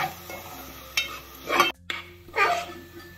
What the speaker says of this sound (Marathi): हे पण छान ढवळत राहायचं, म्हणजे चांगलं खमंग व्हायला पाहिजे तिथपर्यंत ढवळत राहायचं